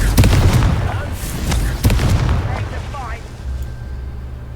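Repeated Confringo spell blasts in Hogwarts Legacy, loud booming bursts with sharp cracks several times in a row, over a steady low rumble, with someone speaking between them.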